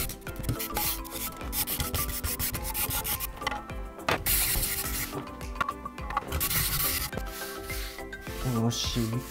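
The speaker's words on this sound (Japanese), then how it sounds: "ちょっと石膏板の厚みがちょっとあったので、最後削って微調整します" Gypsum board is shaved down for final fine adjustment while building a two-way clay wedging table, with loud, continuous rasping strokes in quick succession, close to the listener.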